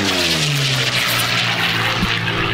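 Unlimited-class racing aircraft Dreadnought roaring past at the Reno Air Races, a loud, steady propeller engine drone close by.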